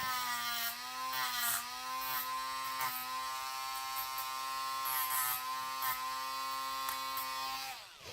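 A motorized tool, likely a rotary tool, buzzes steadily as it shaves down part of a Mezco Spider-Man 2099 action figure's wrist to flatten it, sustained and close, then winding down at the end.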